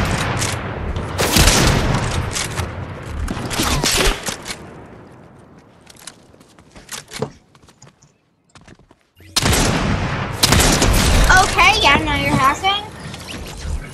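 Sniper and other gunfire crack through a Fortnite match in loud, dense bursts, fading to scattered shots before another heavy volley erupts, with a voice talking through it.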